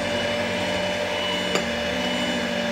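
A stand mixer runs steadily at low speed, kneading pastry dough for layered carbonara pastel, giving a continuous mechanical whir with a brief knock partway through and no talk.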